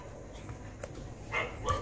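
Dogs bark indoors in the background, a few short, muffled barks and yips rising near the end, fairly faint and off-mic.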